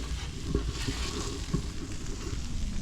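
Sausage frying in a skillet with the lid moved aside for a Southwestern breakfast skillet, giving a steady close sizzle with occasional soft stirring knocks, no voices.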